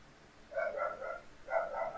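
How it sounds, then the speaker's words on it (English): A house dog barks during an acrylic painting session, giving two quick bursts of several close, moderate barks about a second apart, with no talk over them. "My dog is very noisy,"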